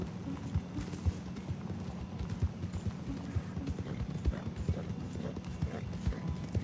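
Steady clip-clop of horse hooves trotting at an even rhythm in the video game Red Dead Redemption 2, fairly quiet, with a faint low hum underneath.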